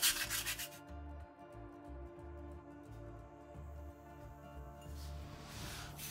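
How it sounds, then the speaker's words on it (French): Small 4 mm square wooden strips for a Titanic model being sanded by hand, a close, quiet, continuous rubbing with short back-and-forth strokes in uneven bursts. "On commence comme d'habitude par poncer un petit peu notre bois."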